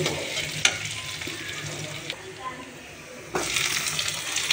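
Chopped onions frying in a pan, a steady sizzle with a few sharp clatters and a louder burst near the end.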